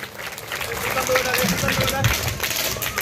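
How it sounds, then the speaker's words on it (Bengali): An audience at a Kali Puja pandal inauguration in Farakka claps for social worker Sunil Chowdhury: steady, dense applause under a loud voice on a microphone and crowd chatter. "হাততালি দেব।"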